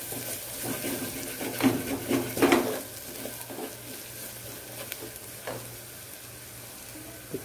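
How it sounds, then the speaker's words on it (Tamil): Garam masala and biryani masala powders sauté in a pan for a vegetable kodo millet biryani, with a soft steady sizzle and a few louder stirring scrapes early on, close and without speech. "இதை கொஞ்சம் நல்லா பச்சை வாசனை போகிற வரைக்கும் நல்லா கொஞ்சம் வதக்கணும்."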